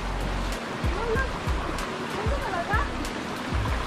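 A clear mountain stream rushes along a hiking trail, steady close water flow with splashing, while people talk over it and footsteps pass.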